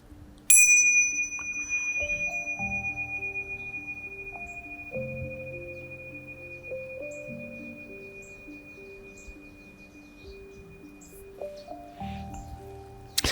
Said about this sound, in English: I'm going to ring the bells for that.